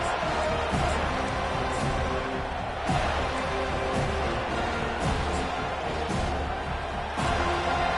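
Steady, dense stadium crowd roar from the NCAA 25 college football video game, a continuous broad wash with periodic swells, under a commentator's voice.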